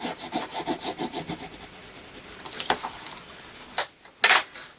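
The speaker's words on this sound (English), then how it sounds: "I'm going to fold this over, run along with my bone folder" Rhythmic scraping of a bone folder run firmly along a folded crease of 12 x 12 paper for a decorative box, close and fairly quiet, followed by a few sharper rustles and taps of the paper.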